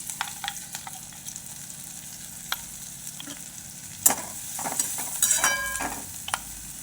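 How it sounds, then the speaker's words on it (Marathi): Coarsely crushed green chillies, peanuts and garlic sizzling in hot oil in a heated kadhai, a steady frying hiss broken by clinks and scrapes of a spoon stirring, louder bursts near the end. "कढई तापलेली आहे त्यात आपण तेल टाकूया जाडसर केलेली मिरची शेंगादाणे आणि लसूण ते टाकून घेऊया"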